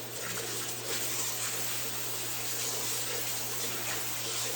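Water draining from a hot tub being emptied for cleaning, a steady, faint rushing flow with a constant low hum underneath, continuous and unchanging throughout with no talking.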